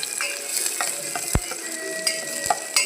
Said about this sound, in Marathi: इथे कांदा भाजून घेण्याची सुरुवात केली आहे बघा.